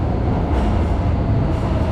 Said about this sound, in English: we're just going to get on the DLR train over here back to Canary Wharf